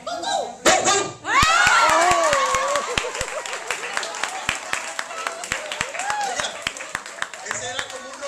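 People imitate barking dogs, one like a rottweiler, with sharp repeated vocal barks alongside rhythmic clapping and group laughter and talk.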